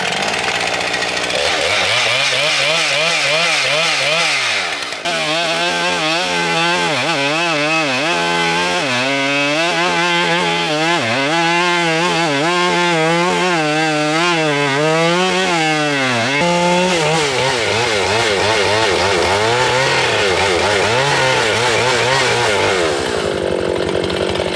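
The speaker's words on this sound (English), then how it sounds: "We're going to try to cut this massive log. We sharpened the chain, we brought down the rakers, and hopefully, it's an old chain." Chainsaw with a sharpened old chain and lowered rakers cuts into a massive log, a loud close engine snarl that bogs and revs in wavering pulses as the bar works through the wood.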